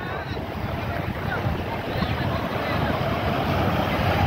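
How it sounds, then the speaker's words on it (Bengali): Sea waves roll in with the incoming tide on the beach at Nazirartek dried-fish village, Cox's Bazar, a steady, moderately loud wash of surf mixed with wind. "সাগরে ঢেউ, এখন জোয়ার আসতেছে"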